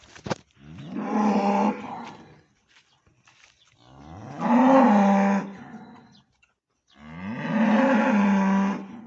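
A young heifer bellows in three long, loud moos close by, each lasting over a second with quiet gaps between, on a farm with cattle.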